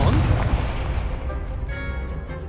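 Confringo fire spell blast in the Hogwarts Legacy video game, a heavy booming explosion with a deep rumbling body that decays over a couple of seconds into a fading crackle.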